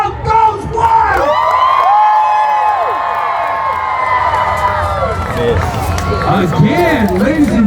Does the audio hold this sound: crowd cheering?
yes